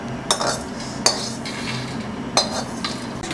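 A fried mix of onion, garlic and peanuts is tipped from a pan into a bowl, with three sharp metallic clinks and scrapes of a spoon against cookware over a quiet background, no voices.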